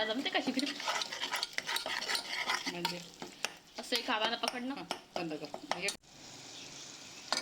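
Spices and coriander powder fry in hot oil for a spinach dal while being stirred, a sizzling hiss broken by scraping, with whining, voice-like sounds breaking in over much of it.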